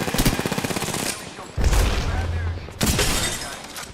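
Gunfire cracking an enemy shield in a video game: a fast rattling burst of automatic shots, then heavy impacts and breaking crunches, all loud and close, with voices talking over it.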